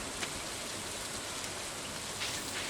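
Rain in Stardew Valley falls as a steady, dense wash of drops, even and continuous with no voices over it.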